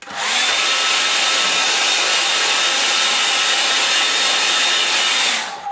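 A hair dryer blows steadily on damp paint, a loud, close, constant whoosh that holds evenly for several seconds before cutting off.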